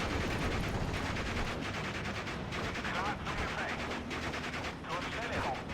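Mortar and gunfire battle sounds from the WWII strategy game Steel Division: Normandy 44 at Colleville, dense and continuous, with repeated distant blasts layered under steady background combat noise.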